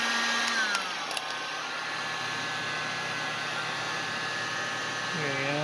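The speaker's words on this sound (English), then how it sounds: "So I'm just gonna get the heat gun ready." A heat gun blows steadily on plastic being softened for a Kenner toy build, a constant loud rushing hiss that holds through the whole stretch, with faint tonal whines drifting in and out.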